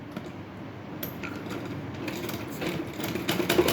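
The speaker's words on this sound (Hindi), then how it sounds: "ये मैंने ऐसे जो निशान लगाया है, इस पे मैं सिलाई लगा लूँगी।" A sewing machine stitching a blouse runs at a low, steady whir with quick ticking pulses that grow slightly busier and louder toward the end.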